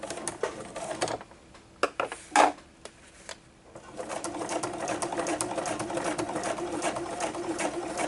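A domestic sewing machine stitches a fabric glasses case. A few scattered clicks and handling knocks come first, then the close, rapid, continuous whirring rattle of stitching runs to the end.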